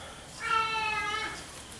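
A cat meows for food during cookie baking: one drawn-out, high-pitched meow lasting about a second, fairly faint against a quiet kitchen background.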